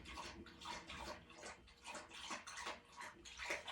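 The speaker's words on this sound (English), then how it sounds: "My dog's drinking water right in the middle" A dog laps water from a bowl close by, a rapid wet splashing rhythm of quick tongue strokes that keeps up at a quiet level without pause.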